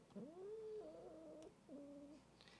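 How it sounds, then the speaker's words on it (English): A cat gives several drawn-out, wavering meows in a row, close and fairly quiet, with brief pauses between the calls. "You're a good kitty, Amy."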